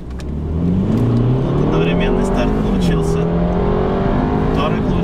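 Two cars, a Volkswagen Touareg 4.2 TDI and a BMW F30 320i, launch from a standing start with a sustained loud engine roar and rising revs across the whole span, while people talk over it.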